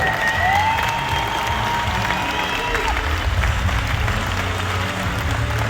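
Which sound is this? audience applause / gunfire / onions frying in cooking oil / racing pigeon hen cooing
audience applause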